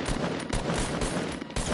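Dense crackling gunfire from an online shooter game, rapid overlapping shots that hold steady and loud through a short burst, with no voices.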